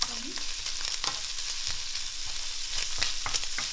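Bacon fries in a pan with a constant crackling sizzle and scattered sharp pops, moderately loud and close, no talking.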